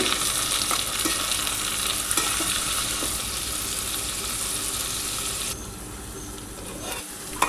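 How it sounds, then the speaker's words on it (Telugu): Chopped tomatoes fry in a pan for a chicken biryani, giving a steady, loud, close sizzle with soft stirring scrapes; the hiss thins out slightly near the end. "అలాగే మనం ముందుగా కోసి కట్ చేసి ఉంచుకున్న టమాటాలను కూడా ఇందులో వేసి కొంచెం ఫ్రై చేసుకోవాలి"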